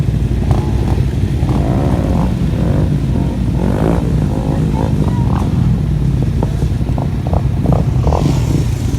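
A motorcycle riding over a curb during a group stunt ride in a parking lot, loud close engine drone with revving and clattering bumps, wind buffeting across the microphone.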